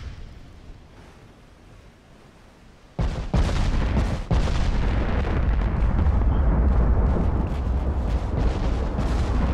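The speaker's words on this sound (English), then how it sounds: "Man, is she shooting some serious secondaries at our destroyers." A battleship's secondary guns fire at destroyers in the naval game Ultimate Admiral: Dreadnoughts: after a quiet start, a sudden barrage of heavy booms and blasts erupts into a loud, continuous roar of rapid gunfire.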